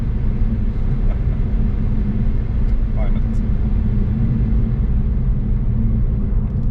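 Nissan Juke Nismo RS engine switched into sport mode, a loud, steady low drone from inside the cabin with a constant rumble and no clear revving, heard alone.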